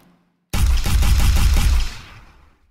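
Loud, rapid volley of projectile shots in a video game demo firing red cones, about eight quick punchy bursts in close succession, followed by a fading tail.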